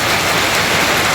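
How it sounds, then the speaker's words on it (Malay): Heavy rain pours down steadily as a dense, loud, unbroken hiss of drops, heard on a fishing trip on a raft in Johor, with no talking. "Hujan lebat."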